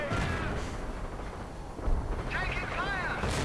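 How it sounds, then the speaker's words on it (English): Artillery and mortar fire in a strategy video game sound as dull, rumbling booms under continuous spoken commentary. "Mortar lining up ever so slowly. And there we go, artillery."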